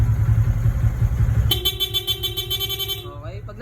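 A loud motorcycle dual horn with a PIA rapid horn setup blares in a rapid two-tone pattern for about a second and a half over an idling engine, then stops.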